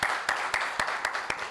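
An audience applauds the consortium captains with steady, evenly spaced claps over a low background murmur of the crowd.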